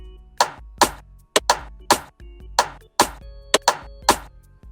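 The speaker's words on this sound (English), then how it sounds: "These extra percussions consist of the Madsko snare 16," Layered snare and percussion samples in an Afrobeat remix of a pop song hit in a steady syncopated groove, crisp sharp transients with short decaying tails, loud and dry.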